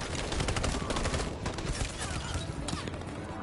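Sustained covering gunfire in the Detroit Become Human video game finale, a dense continuous fusillade of shots filling the whole moment at steady loudness.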